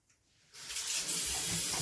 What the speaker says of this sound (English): quickly wash my hands